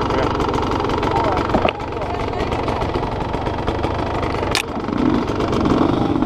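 An enduro motorcycle engine runs steadily and loudly nearby on a trail ride, a continuous rough drone with a couple of sharp clanks, while someone talks over it.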